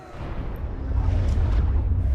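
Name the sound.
large missile explosion in a film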